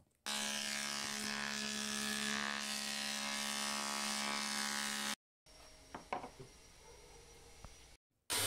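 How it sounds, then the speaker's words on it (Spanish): A loud, steady mechanical whine of a belt sander with 80-grit paper grinding wooden boards for a bed for several seconds, then a pause followed by softer scraping and knocks. "Para darle una sentada con mi lija número 80 con ayuda de mi lijador de banda"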